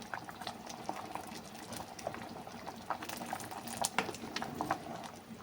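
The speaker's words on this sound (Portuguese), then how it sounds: "passaram 5 minutinhos mais ou menos de fervendo aqui, começou a ferver, né?" Vegetable curry (karê) bubbling steadily in a pot on the stove, a dense layer of small pops and gurgles over a soft hiss, close and moderately quiet, with no one speaking.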